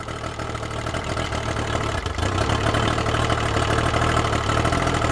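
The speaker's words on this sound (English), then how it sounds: "Oh, it's idling beautiful." A warmed-up Yamaha outboard motor idles steadily, a loud, continuous engine drone with an even throb and no voices over it.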